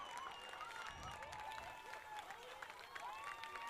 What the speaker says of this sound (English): that's the crowd erupting